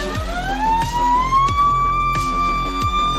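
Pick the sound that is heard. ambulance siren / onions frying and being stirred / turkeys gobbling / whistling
ambulance siren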